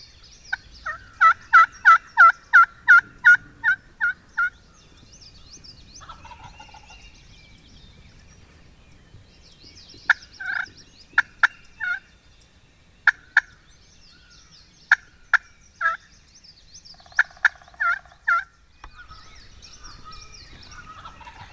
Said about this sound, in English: Those turkeys were hammering on the roost.